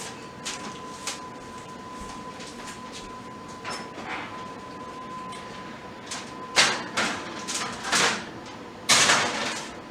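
A pan of pork chops is slid into an oven and the door thumps shut, a series of clattering knocks and a sliding rasp near the end, close by, over a faint steady hum.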